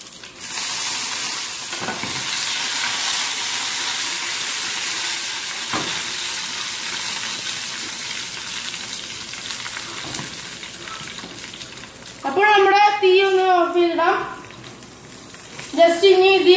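Curry leaves and dried red chillies frying in hot coconut oil, a steady close sizzle and hiss with faint stirring taps, and a person talking over it near the end.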